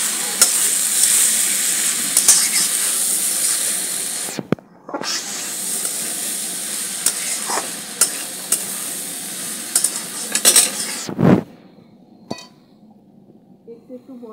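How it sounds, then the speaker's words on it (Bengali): Khichuri spices frying with cashews, raisins and tomato in a pan, a loud, steady sizzle with spatula scrapes and clinks, broken by a couple of abrupt pauses before the sizzling fades near the end. "একটা টমেটো দিয়ে এইবারে ভালো করে কষে দেবো"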